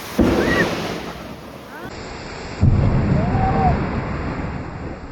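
A heavy thunderstorm with lightning and downpour during a power cut: deep thunder bursts boom twice over a constant wash of rain, and a voice is faintly heard in the background.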